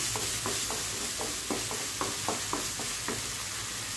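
A utensil scrapes and stirs through potatoes and tomato sizzling in a pan, with steady frying hiss underneath and repeated short scraping strokes.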